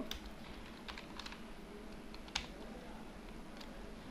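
Quiet typing on a computer keyboard while editing text in Microsoft Word 2007, with soft, irregular key taps and a few sharper clicks over a low background hum.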